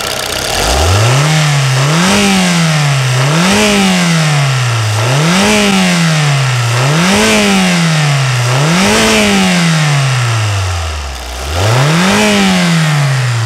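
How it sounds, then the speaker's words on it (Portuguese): A Nissan Frontier diesel engine revs repeatedly in close, loud bursts, about seven rising and falling surges of throaty rumble with a brief dip near the end, and no talking. "Vamos ver se tem aquela turrada tradicional do motor a diesel."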